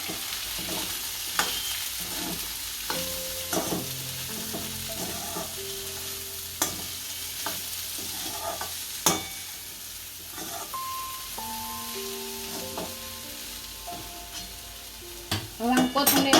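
Peanuts frying in a pan for potato-and-peanut khichdi get stirred with repeated scrapes and clinks over a soft, steady sizzle, close by and fairly quiet.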